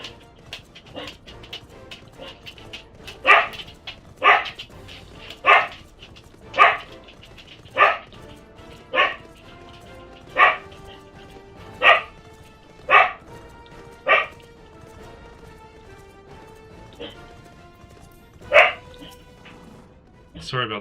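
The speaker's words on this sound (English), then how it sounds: "Sorry about the dog, guys." A dog barks in a steady series of about a dozen loud, evenly spaced single barks, close by, under background game audio during play of Final Fantasy XIV Heavensward.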